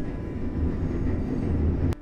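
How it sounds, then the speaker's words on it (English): A train rumbles past outside a New York City apartment, a steady low roar heard from indoors for about two seconds before cutting off abruptly. "Here's the train, so give me a minute."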